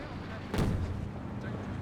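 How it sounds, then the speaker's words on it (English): Smoke rounds from artillery fire in the video game Company of Heroes 2. A single deep, booming shot stands out from dense, steady battle noise. "Smoke rounds now firing away."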